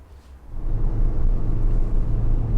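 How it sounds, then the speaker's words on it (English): A 1984 Ford Fiesta Ghia MKI with a 4-speed gearbox cruising at about 80 km/h, steady engine and road rumble rising in the first half-second, then holding close and even with no talk. "So now we're driving around 80 kilometers per hour"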